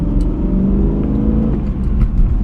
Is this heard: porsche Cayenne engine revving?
yes